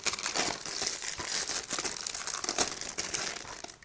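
Plastic packaging on a Blu-ray disc being unwrapped, with steady close crinkling and crumpling, several sharper tearing rips through a few seconds of handling, and no voices.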